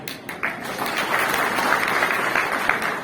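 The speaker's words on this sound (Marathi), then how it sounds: "अरे टाळ्या वाजवल्या बरं वाटलं मला" An audience at a Congress party workers' rally claps in a dense, sustained burst of applause that swells and holds steady, heard at moderate distance.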